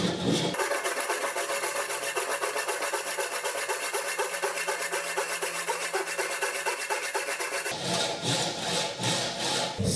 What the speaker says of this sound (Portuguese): corte o excesso da espiga com um serrote comum